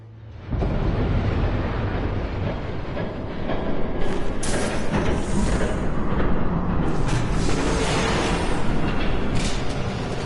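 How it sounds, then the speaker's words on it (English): A train thundering past in the Telltale Batman video game, a loud, sustained roaring rumble that kicks in abruptly and surges again midway, with no voices over it. "There's a train coming."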